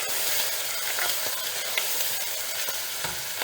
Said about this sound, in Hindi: इसी में मैं अदरक डाल दूँगी।